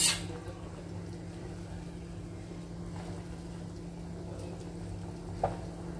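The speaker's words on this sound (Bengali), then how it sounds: "ঝোল ফুটে গেছে, এবার অমলেটগুলো দিয়ে দেবো" Egg omelettes simmering in a pot of spicy curry gravy give off a steady low bubbling hum under faint background noise, with one soft knock near the start and another near the end.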